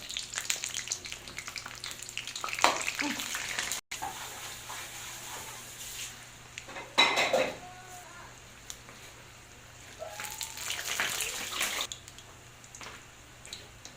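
Breaded calamari frying in a shallow layer of hot oil: a close, steady sizzle with crackly bursts that swell and fade as the pieces are moved, with no talk.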